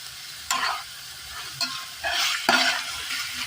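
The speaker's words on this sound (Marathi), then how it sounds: "आता तेलामध्ये चांगलं चिकन परतून घेतलं आता त्याच्यामध्ये मसाले टाकायचे हळद टाकली" Pieces of chicken sizzle in hot oil with turmeric and spices in a pan. A utensil scrapes and stirs them in several distinct bursts over a steady close crackle.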